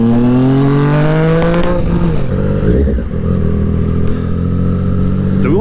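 A 2020 Triumph Street Triple 765 RS motorcycle being ridden, its engine revving up through rising pitch, dropping as the rider shifts, then climbing again; loud and close throughout with no talking.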